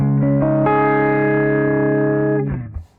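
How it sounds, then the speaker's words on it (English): An electric guitar run through a Soundtoys Echo Boy tape-delay emulation rings out in a sustained, driven chord with swelling harmonics, then a trailing decay as the delayed repeats fade. "Echo Boy, so it emulates a tape delay"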